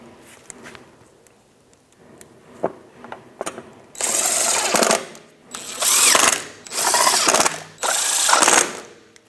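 A small nut being run onto the studs of a rear shield with a 10mm socket on a 2009-2013 BMW 328i xDrive, heard as bursts of ratcheting, whirring driver noise in several loud runs after quieter clicks and handling sounds.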